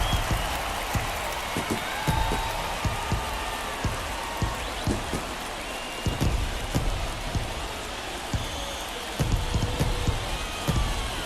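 A home crowd at a Cubs versus Braves baseball game in MLB The Show 23 roars after a home run, a steady wash of cheering and clapping with sharp claps and thumps poking through for the whole stretch.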